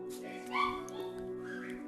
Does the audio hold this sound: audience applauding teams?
no